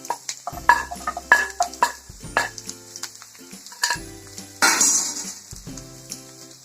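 Sliced onions hiss and sizzle in a hot pan for ulli chutney, while a spoon scrapes and clinks against the metal in a quick stirring rhythm, with no voices.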